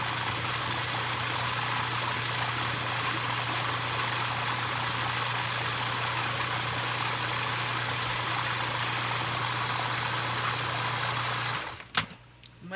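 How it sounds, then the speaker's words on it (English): A food processor whirs continuously as it blends black bean hummus with tahini, a loud, even motor drone that cuts off abruptly near the end with a few clunks. "I'm going to give this another spin in the food processor."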